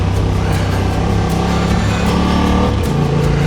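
A car engine pulls hard at close range, its steady growl dropping and resettling as the gearbox shifts into second partway through, with no voices over it.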